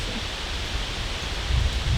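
Steady broadband wind roar with low buffeting rumble, gusting a little stronger toward the end; no voices.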